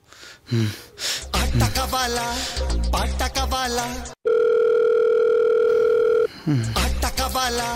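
Music with vocals stops for a steady, unbroken telephone tone lasting about two seconds, an unanswered call, then the music resumes.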